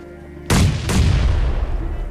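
A grenade explodes in a battle royale video game, two sharp booming blasts in quick succession followed by a long, rumbling low decay.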